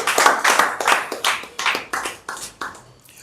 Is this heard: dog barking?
no